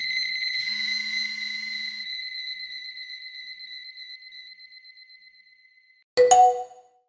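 A steady electronic alarm tone from a phone in an animated cartoon rings for several seconds and slowly fades away. A brief, louder chime-like burst then follows, with no talking.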